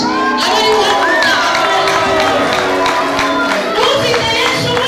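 Church congregation in Rwanda applauding and cheering for God during a choir service, loud sustained clapping mixed with shouts, whoops and ululation that fill the whole stretch.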